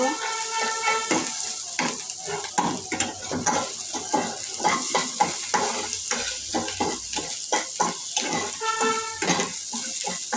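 Fish bhuna frying and being stirred in a pan, with a steady sizzle and repeated scraping strokes of a spoon against the pan running throughout, close and fairly loud, no voices.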